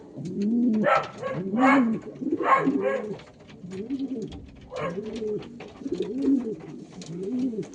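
Pigeons coo steadily during pairing, several birds giving repeated throaty, rolling calls that overlap in close succession, with faint chirps and light rustling between them and no speech.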